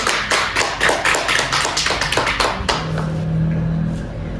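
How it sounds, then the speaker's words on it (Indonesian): Students clapping for one another during a chemistry lesson, a close, uneven patter of a few pairs of hands that thins out and gives way to a low hum. "boleh beri tepuk tangan untuk kamu semua"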